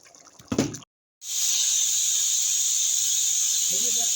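Chicken boils in a pot with salt added: a short clatter and a moment of silence, then a steady loud hiss of bubbling liquid that continues to the end.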